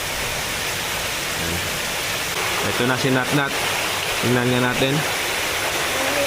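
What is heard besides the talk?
flowing water at a beach resort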